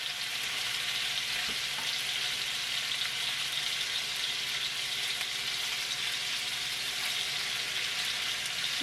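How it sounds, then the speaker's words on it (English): Fish frying outdoors in hot oil gives a steady, even sizzle throughout, moderately close and without voices. "So we're gonna fry today."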